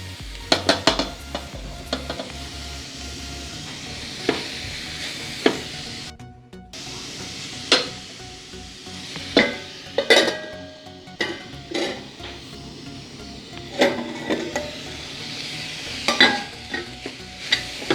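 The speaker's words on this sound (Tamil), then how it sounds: "இதை நல்லா பிரட்டிட்டு ஒரு 5 நிமிஷம் அப்படியே வதங்க விடணும்." Grated carrots sizzle in a hot pan for carrot sambal while a spoon stirs and scrapes against the metal, giving repeated sharp clinks over a steady soft frying hiss.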